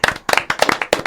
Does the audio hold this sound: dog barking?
no